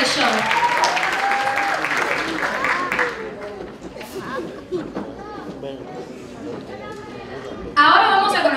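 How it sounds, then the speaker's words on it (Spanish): Audience applause for pageant queens at a Miss Cuba US gala show, with loud clapping at first, then fading into chatter and voices before another burst of clapping near the end. "Un aplauso fuerte para nuestras reinas"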